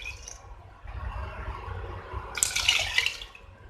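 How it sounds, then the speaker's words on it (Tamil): Water poured into a pot of basmati rice and coconut milk for chicken pulao, a brief close splash and gurgle after a quiet stretch of faint kitchen rustling. "மீதி 2 கப்புக்கு தண்ணி விட்டுடலாம்."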